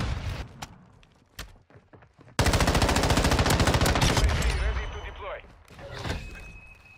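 Rapid automatic gunfire in a first-person shooter game, a loud sustained burst after a few scattered single shots, with an excited player talking over the action.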